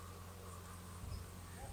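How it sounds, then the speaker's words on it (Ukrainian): Bees buzz faintly around a candy feed near a hive, with a soft, continuous hum and a few brief closer passes over quiet background noise. "Щось бджоли тут літають, нюхають."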